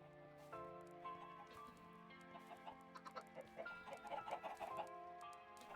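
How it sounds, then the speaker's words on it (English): Chickens in a modded Minecraft game cluck in quick, repeated bursts that grow busier toward the end, set over a steady tonal background hum and heard close and fairly quiet. "sounds like they're chickens now"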